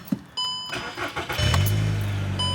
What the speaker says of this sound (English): we're gonna start the car up, make sure it still cranks